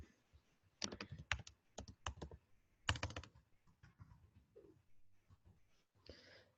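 Quiet bursts of computer keyboard typing to rename a file, clustered clicky keystrokes in short runs separated by pauses, with faint breathing nearby.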